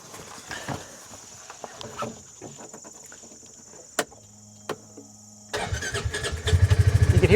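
A vehicle engine is started with an Andeman portable jump starter: after faint clicks and knocks, the starter cranks in a quick rhythmic churn and the engine catches abruptly into a loud, close running rumble.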